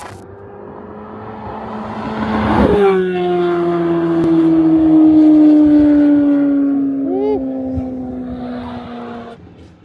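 A loud, high-pitched V10 Lamborghini Huracán engine howls close by, its tone sliding down into a long sustained drone as the revs ease off.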